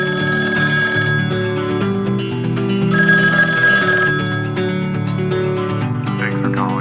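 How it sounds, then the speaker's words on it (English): A telephone rings repeatedly with bright, loud electronic bell tones, steady ringing bursts filling the clip with no voices. "The phone rang, jarring him from his thoughts."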